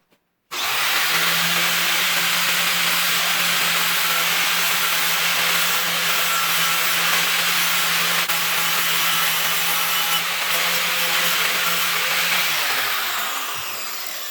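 A steel wire wheel, spun by a power tool, scours rustic barn wood with a loud, continuous abrasive rubbing and a steady motor hum for about thirteen seconds, then winds down at the end.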